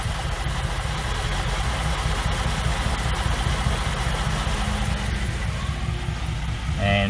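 Holden VZ Commodore 3.6L engine idling with an injector control circuit fault, a steady close low rumble and vibration that holds unchanged throughout.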